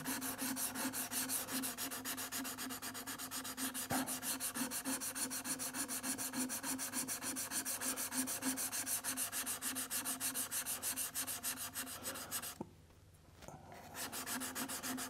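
Steady close grinding on a sharpening stone made for hardened steel as slurry builds up, a continuous rhythmic rubbing that runs nearly fifteen seconds and drops out briefly near the end.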